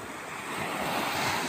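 Ocean surf at Pantai Lubuk beach in Karimun, Riau Islands, makes a brief, loud, steady wash that swells slightly, mixed with wind buffeting the microphone.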